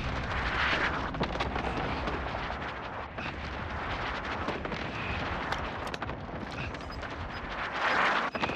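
Dense, sustained rumbling blasts and crackling gunfire fill a Call of Duty Modern Warfare Resurgence match as an air strike lands, loud and continuous with swelling bursts near the start and end.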